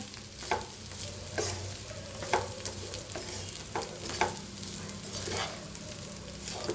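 Seasoned tempered rice being stirred and mixed in a pan, with repeated scraping strokes roughly every second over a low background hiss, close and moderately loud, no talking.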